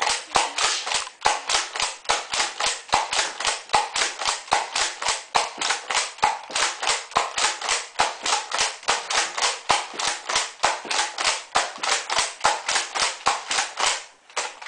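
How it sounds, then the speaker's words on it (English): Alpha Trooper toy gun firing in a fast, steady stream of sharp snapping clicks, roughly three per second, loud and close for about fourteen seconds with no talking. "I'm going to see if the Alpha Trooper is fast firing"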